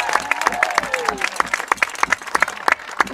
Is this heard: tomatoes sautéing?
no